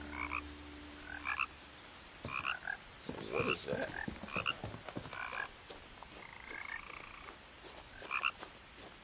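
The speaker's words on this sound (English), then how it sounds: "I'm hearing frogs, not seeing them." Frogs croak in a pond in the video game What Remains of Edith Finch, with steady repeated calls over soft ambient background. A person speaks briefly over them.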